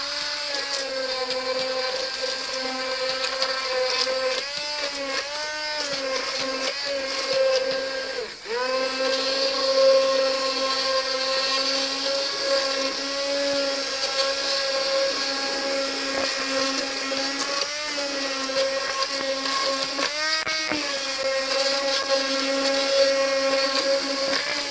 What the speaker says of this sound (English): So I'm going to take my immersion blender and just